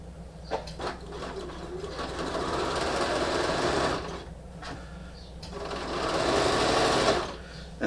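A sewing machine stitches French fold bias binding in two long steady runs of rapid mechanical whirring, close and fairly loud, separated by a short pause and brief handling clicks.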